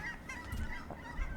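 Geese in the Dwarf Fortress game honk in a short, muffled flurry of calls over a low rumbling background.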